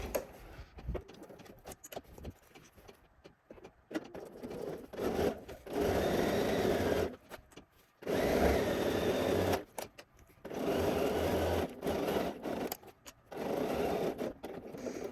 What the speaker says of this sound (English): We're going to sew this seam at a 1/2 inch seam allowance.